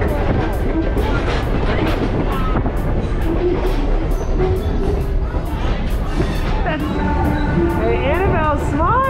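Steady rumbling and rattling of a moving train carriage fills the clip, with people talking over the constant ride noise.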